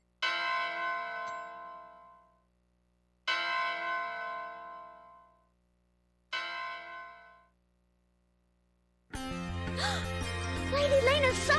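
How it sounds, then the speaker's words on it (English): A summoning bell in the video game Soul Nomad rings three times, each loud clear strike ringing out and fading over about two seconds, followed by a burst of dense game music. "Lady Lena's summoning bell."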